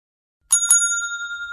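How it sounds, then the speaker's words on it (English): A bell rings twice in quick succession after a moment of silence, two bright metallic strikes whose clear tones ring on and slowly fade. "At 10 a.m. the bell rang"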